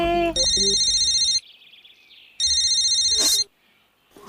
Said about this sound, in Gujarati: જાણે ક્યાં ફોન વાગે છે પાછો.